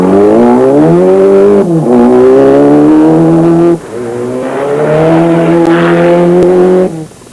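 Dakar rally race cars roar past a crowd in Senegal in 1996, loud sustained engine notes rising in pitch through gears, with two or three cars passing close in quick succession.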